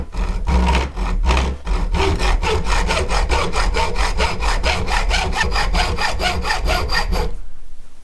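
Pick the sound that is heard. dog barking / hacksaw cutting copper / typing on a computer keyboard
hacksaw cutting copper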